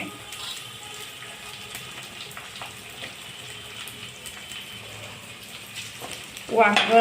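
Mixed vegetables sautéing in oil in a pan, a low continuous sizzle with occasional stirring scrapes at close range, ending in a louder burst of crackling near the end.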